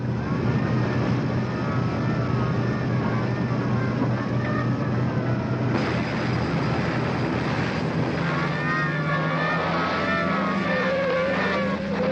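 A car speeds along a road at about 65 mph, giving a steady, loud, continuous engine and road roar. The pitch rises midway as it accelerates, and music plays along with it.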